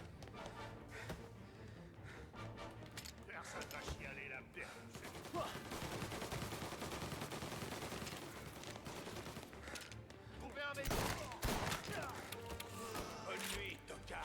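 Tommy gun fire in the Mafia video game, bursts of automatic gunfire among other game sounds, loudest in the later part, with someone talking at times.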